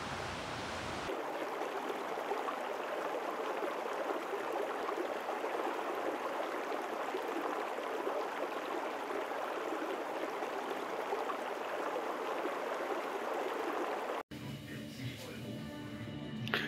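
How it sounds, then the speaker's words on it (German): A small stream flows just beside a camper van in German wine country, a steady, broad rush of water that continues evenly for some time and then gives way abruptly to a different noise. "genau gegenüber von meiner Schiebetür, ein kleines Flüsschen ist. Oder sagen wir mal ein Bach."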